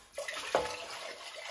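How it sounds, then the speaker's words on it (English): Water poured into a bucket under a hot Finnish sauna at Kuusijärvi, a short splashing pour with a brief louder gush midway, close by and clear over a soft background hiss. "Kaada kaikki vaan sinne."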